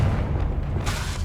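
A Confringo fire-blast spell explodes in Hogwarts Legacy: a loud, sustained low boom and rumble that swells into a brighter burst near the end.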